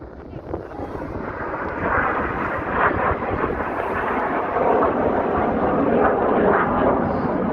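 Red Arrows jets pulling up together in the Synchro Heart display at the Sola airshow, a loud continuous roar that swells and holds, rough with wind buffeting the microphone.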